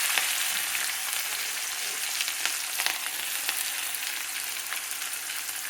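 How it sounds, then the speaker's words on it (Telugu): Tempering seeds and curry leaves sizzle and crackle in hot oil in a pan. A steady frying hiss runs throughout, with sharp pops scattered through it, and no voices are heard. "ఇప్పుడు చిట్చిట అంటుంది కదా, ఎర్రగా అయింది."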